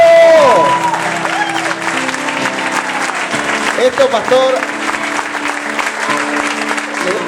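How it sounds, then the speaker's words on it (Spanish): A church congregation applauding after a consecration prayer, clapping and some cheering under someone talking over it, with musical tones sounding in the background. "Den un fuerte aplauso."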